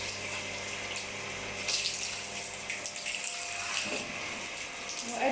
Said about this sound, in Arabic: وانا بغسل البوابه من التراب. جايباه من جوه ومن بره بالخرطوم